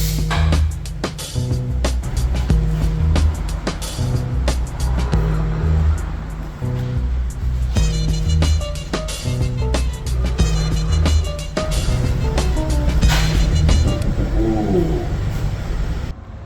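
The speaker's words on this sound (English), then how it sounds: "Let's give the suspension a shakedown and see how that feels." An abandoned 2016 beater car with worn tires and a loose left rear wheel bearing rolls along on a suspension shakedown, with repeated thumps, clunks and rattles over a low road rumble and some speech.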